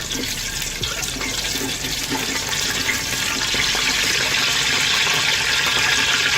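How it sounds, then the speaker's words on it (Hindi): Cumin seeds and cloves sauté in a hot pan for a chicken pulao masala, giving a loud, continuous sizzle that holds steady throughout with no talking. "पुलाव का मसाला बनाने के लिए सबसे पहले हम ऐड करेंगे आधा चम्मच ज़ीरा और 3 से 4 अदद लौंग। इसे हम ज़रा सा सौटे कर लेंगे।"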